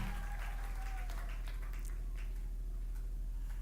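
Crowd applause at a church service rolling on under a low steady hum, with scattered distinct claps standing out from the dense patter.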